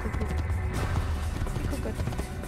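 A horse gallops in Assassin's Creed with steady, loud hoofbeats, mixed with continuous game sound and no voices.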